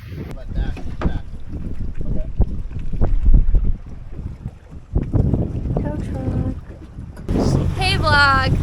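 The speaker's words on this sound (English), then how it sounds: "So as you can hear from the engine, we are moving." Boat engine rumbling steadily while underway off a remote Florida island, with wind buffeting the microphone and water noise; a voice speaks briefly near the end.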